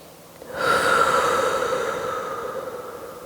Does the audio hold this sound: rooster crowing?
no